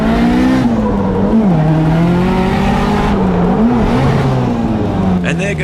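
A 400 hp Nissan S13 drift car at a drift festival, its engine droning loud and close through a long slide, pitch sagging and wavering as the gearbox breaks and loses third and fourth gear.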